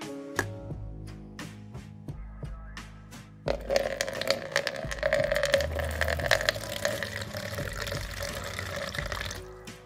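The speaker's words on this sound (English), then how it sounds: "First of all, I take a bowl with water." Clean tap water runs into a bowl, starting abruptly after a few faint clinks and continuing as a steady, close splashing fill for several seconds.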